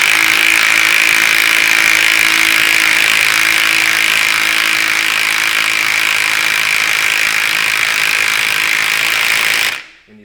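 Power tool tightening a shock absorber nut on a 2010 Ford Raptor, a loud, continuous rattling whir held steady for nearly ten seconds before stopping abruptly.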